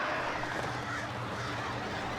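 Crows caw harshly while attacking in the Alan Wake video game, a dense, muffled cluster of bird calls blending into a continuous noisy layer.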